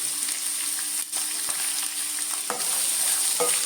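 Onions sautéing with salt in a pan for chicken curry, a steady close sizzle with a few brief scraping stirs.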